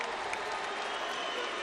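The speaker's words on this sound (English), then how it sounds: "can we give a round of applause for Andy Ruiz" An arena crowd applauds heavyweight boxer Andy Ruiz after a title fight, a continuous wash of clapping and crowd roar with no break.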